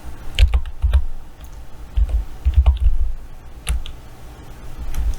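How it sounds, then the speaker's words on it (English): Rapid bursts of computer keyboard typing, close and crisp, with uneven clusters of key clicks separated by short pauses and no voices. "So I'm going to type it in."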